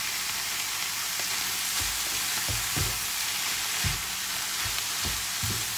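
Konjac noodles frying with cabbage in a pan, a steady bright sizzle broken by repeated scraping and stirring knocks of a spatula.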